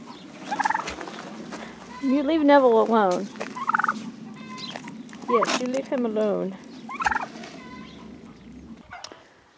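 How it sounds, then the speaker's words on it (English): Turkeys gobble repeatedly in loud, close bursts on a homestead with a garden and goats, with a person talking to them between and over the calls. "Turkeys? What are you doing?"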